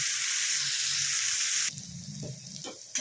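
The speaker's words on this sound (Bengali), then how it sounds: "আলুটা ভালো করে ভেজে নিয়ে ফেরত আসছি আবার।" Potatoes with onion frying in a pan for rajma, a loud steady sizzle that drops abruptly partway through to a softer crackle with light stirring scrapes near the end.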